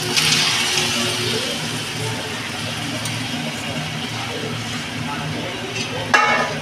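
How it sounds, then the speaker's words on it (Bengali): Marinated chicken goes into hot spiced oil for a desi chicken curry, giving a loud, steady sizzle with stirring and a brief clatter near the end. "এবার আমি এর মধ্যে ম্যারিনেট করা চিকেনটাকে দিয়ে দেব।"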